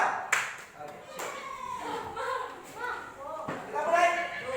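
Children in a classroom group clapping game clap together in short rhythmic bursts, mixed with steady group chanting and a teacher's voice throughout.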